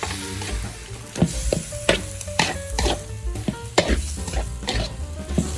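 Glass noodles with egg being stir-fried in a hot pan, a spatula repeatedly scraping and knocking against the metal in an irregular rhythm over a continuous close sizzle.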